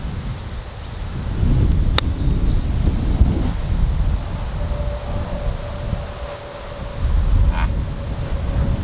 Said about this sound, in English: there's so much wind even on short wedge shots, that's insane